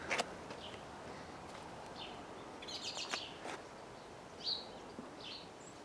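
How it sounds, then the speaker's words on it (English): Birds chirp in a spring garden among erythroniums and trilliums, a few short, faint, scattered calls over a quiet hiss. "Birds singing, the bees are humming."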